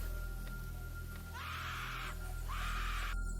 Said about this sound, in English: terrifying screams in the middle of the night in a forest